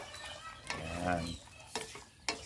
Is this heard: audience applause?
no